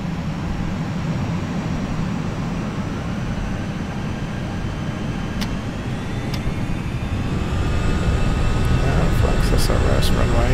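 TAM flight 3358 airliner on its takeoff roll at São Paulo Guarulhos, bound for Maceió: a loud, steady broadband engine roar that swells in the final seconds, with thin whining tones rising above it.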